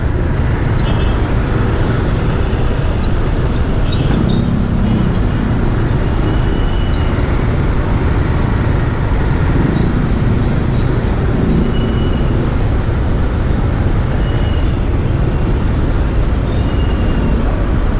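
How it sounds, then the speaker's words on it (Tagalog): Steady road traffic on a ride through Baseco, with a continuous broadband rumble of engines and tires throughout, no clear individual events and no talking. "Matraffic lang tayo guys."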